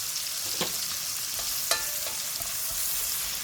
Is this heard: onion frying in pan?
yes